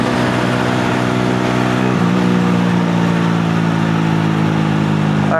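A motorcycle engine fitted with a new airbox runs steadily and loudly throughout, with a low, rumbling idle that rises in pitch as the throttle is blipped around the two-second mark and then holds a higher, sustained drone.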